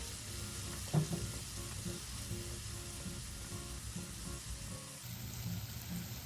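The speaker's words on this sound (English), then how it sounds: "will saute them until they are slightly soft and turn translucent" Vegetables sautéing in a pan, seasoned with salt and red chilli powder, give a continuous close crackling sizzle with light stirring scrapes, steady throughout.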